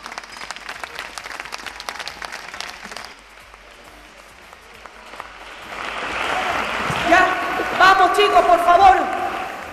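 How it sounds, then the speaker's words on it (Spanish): Audience applauding at a carnival queen election gala in Los Realejos, with scattered clapping that fades briefly, then swells into louder, sustained applause with cheering voices toward the end. "¡Fuerte el aplauso!"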